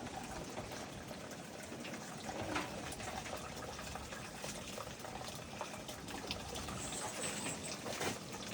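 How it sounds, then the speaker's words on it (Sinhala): Water is strained into a clay pot outdoors at a treehouse kitchen, a continuous trickling, bubbling flow with faint splashes, soft and close, running the whole time without speech. "ඒ හින්දා වතුර ටික දැන් අපි මේ මුට්ටියට පෙරාගමු."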